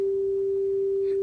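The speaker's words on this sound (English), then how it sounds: "that's a sine wave." A Nord Stage 2 organ plays a pure sine tone with no Leslie, only the fundamental: one steady, clean, unwavering pitch held throughout at moderate level.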